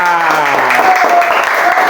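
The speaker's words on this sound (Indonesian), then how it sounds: "Tepuk tangan untuk Raisa." Children in a school classroom clap for a classmate, a steady patter of small hands with a high voice or tone ringing over it.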